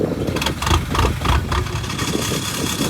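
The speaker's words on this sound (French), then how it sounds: "T'entends le régime moteur qui est en train de changer là déjà." A cold-started TDI diesel engine idles with a low, uneven rumble as its revs rise and fall, heard close and loud with no talk over it.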